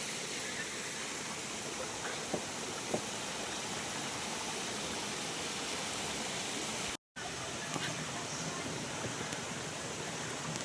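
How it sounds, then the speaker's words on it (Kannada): Mountain stream on the Kumara Parvatha trek after a rainy year, a steady broad rush of flowing water heard close by, with a brief dropout partway through. "ಐದನೇ ಜರಿ."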